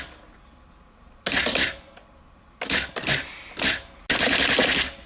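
A Panasonic KX-R210 electronic typewriter works in loud mechanical bursts, with rapid clattering runs of printing separated by short quiet pauses. It sounds close by, and no one talks.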